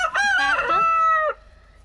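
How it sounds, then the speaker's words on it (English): A single loud, close rooster crow rings out at a farm in winter, rising and holding for about a second before cutting off into quiet. "And the hen with the broken comb down there is Jessica 1"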